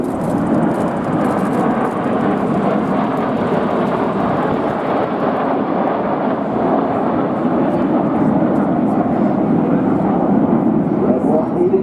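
Red Arrows display jets pulling to the vertical: a loud, sustained broadband jet roar rolls on across the whole span while a commentator talks over it.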